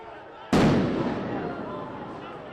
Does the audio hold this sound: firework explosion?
yes